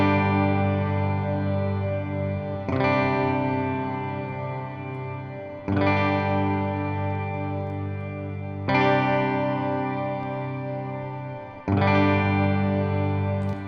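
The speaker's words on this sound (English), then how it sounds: "Let me show you something funny about hall reverbs on guitar. If I crank this thing up, we're almost going to get almost a shimmer-esque." Electric guitar chords drenched in heavy hall reverb, each strum blooming into a long shimmering wash of ringing harmonics; four evenly spaced chord attacks, each decaying slowly into the next, with no talking.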